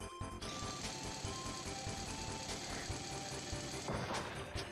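Drill ability in the game Kirby 64: The Crystal Shards, a continuous rapid mechanical rattling and buzzing with steady electronic music tones under it, running the whole time without a break.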